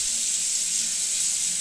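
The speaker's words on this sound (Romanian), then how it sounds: "Și a început să bage apă pe retur" Water flows through the return line into an Ariston Chaffoteaux electric boiler during descaling, a steady close hiss of rushing water with no voices.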